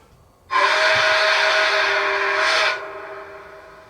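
Steam whistle of a Rapido HO scale H1b 4-6-4 Canadian Pacific Empress model locomotive, one steady harmonic blast of about two seconds with a faint swell near the end, then a short reverberant tail.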